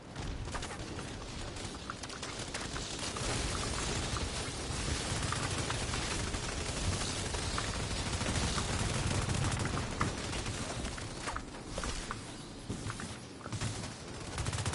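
Steady, dense gunfire crackles throughout this The Division 2 firefight, with rapid overlapping shots, distant booms and faint footsteps, loud and unbroken for the whole stretch.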